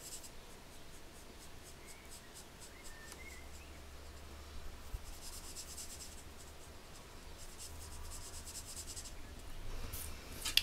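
A red marker colors in a heart-shaped balloon on a handmade panda stamp card, giving faint, continuous scratchy scribbling strokes against a quiet room hum.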